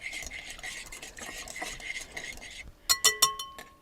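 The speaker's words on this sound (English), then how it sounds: "Then you're just going to whisk all of this together." A whisk stirs a marinade with ground ginger and sesame oil in a bowl, giving soft rapid swishing that ends in a few sharp metallic clinks against the rim.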